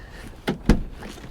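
A BMW X5 car door being opened at a salvage auction lot, giving two quick mechanical clunks in close succession, near and fairly loud, with no talk.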